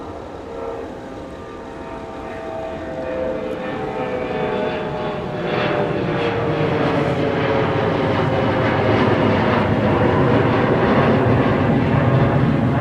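An airliner takes off from a snowy MSP airport during de-icing operations, its engines building from a rumble to a louder, steady roar with whining tones that shift in pitch as it accelerates.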